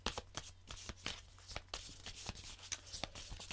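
Tarot cards shuffled by hand for a reading, a quick series of crisp riffling snaps and soft slides, close and quiet with no voices.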